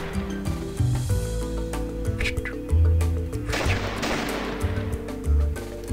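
Rapid bursts of gunfire and booming shots in a Wild West video game, over layered electronic game music and effects, fairly busy and continuous.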